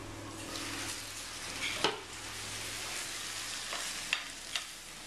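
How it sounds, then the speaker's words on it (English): Leeks and broccoli stalks sizzle quietly in a heavy pan as they are stirred, a steady soft frying hiss broken by a few sharp utensil scrapes. "let's kind of see the lid off that, give it a stir around"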